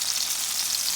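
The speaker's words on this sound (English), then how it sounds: "We're going to fry them until they're nice and golden brown on both sides before we remove them from the oil." Apple fritters frying in hot oil give off a steady, loud, close hiss and crackle of sizzling that continues evenly, with no voices.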